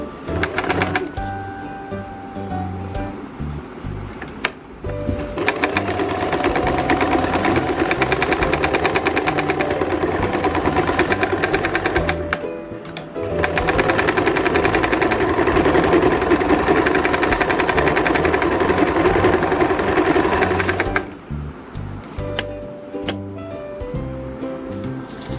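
A sewing machine stitching elastic onto a palazzo pant, running in two long steady bursts of rapid mechanical whirring separated by short pauses, loud and close, with no talking.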